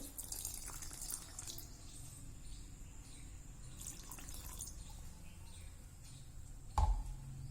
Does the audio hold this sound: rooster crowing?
no